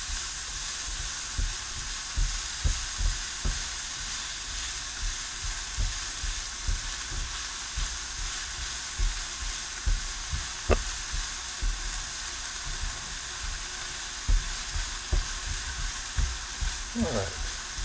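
Rice sizzling in a pan for lemon rice pilaf, a soft steady frying crackle at a modest level with regular stirring scrapes and taps spaced through the stretch, plus a brief higher clink near the end.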